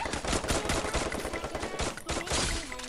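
Dense, chaotic gunfire and explosive bursts in the Free Fire battle royale game, including grenade launcher shots, sounding loud and close with overlapping rapid reports and no talk over it.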